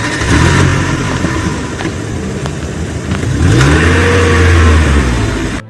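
A car approaching along a road, its engine rumbling and revving louder as it draws near, loud and close with no voices over it.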